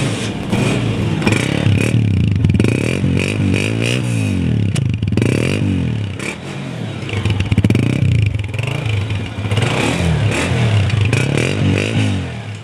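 A Honda 125 motorcycle engine runs steadily up close, its low throb rising and falling with a few revs, with some rattling and scraping noises along the way.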